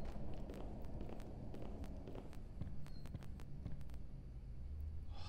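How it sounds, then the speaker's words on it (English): Footsteps in a horror video game set inside a house, Power Drill Massacre, a faint, irregular series of soft steps over a constant low rumble of game ambience, with no talking. "Oh, that scared the living daylights out of me, those footsteps just then."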